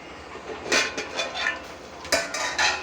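A metal plate set down over a pan of cooking onions for a bean and tomato curry gives several clinks and clatters, near and fairly loud, in two short bursts with no talk.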